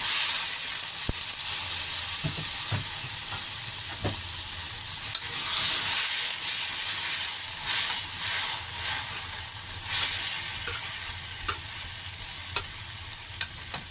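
Kimchi sizzles and hisses in a hot pan while being stir-fried for tuna fried rice, with a steady frying crackle and the occasional scrape and tap of a spatula, close and alone.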